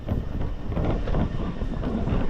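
Train pulling into a station in Taiwan, a loud steady low rumble with windy roar throughout, close by and continuous.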